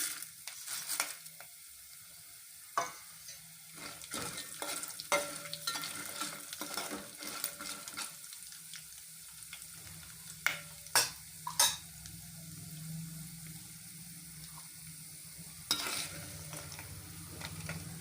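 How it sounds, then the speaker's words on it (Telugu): Peanuts, cumin, mustard seeds and urad dal fry in hot oil for mango pulihora, a soft continuous sizzle broken by sharp stirring clicks and scrapes of a spoon against the pan. "పల్లీలు కొంచెం వేగినాక జీలకర్ర ఆవాలు మినపగుండ్లు అన్నీ పోయాలండి"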